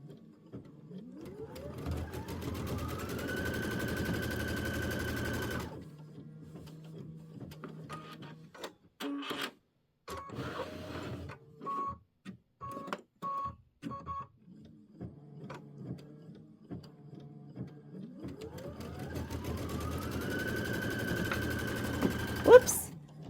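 A computerized embroidery machine stitching a quilt block placement line whirs and hums with a rising tone at the start and end, and a stretch of rapid intermittent stitching pulses between.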